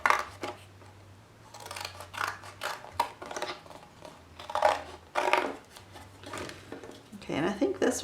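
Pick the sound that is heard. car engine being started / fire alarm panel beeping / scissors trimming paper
scissors trimming paper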